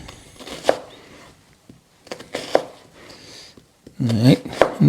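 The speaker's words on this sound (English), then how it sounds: "I'm not going to dice these. I'm going to slice them. These onions, all right?" A knife slices onions on a cutting board in sparse, separate taps at first, then a quicker cluster of cuts near the end, close and crisp with talk between them.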